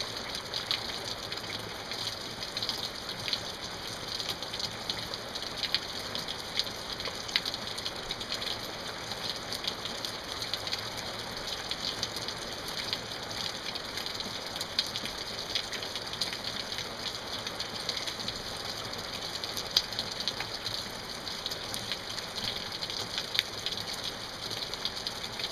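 Steady rain falling in a continuous, even hiss of dense drops, moderately close and unbroken, with no voices over it.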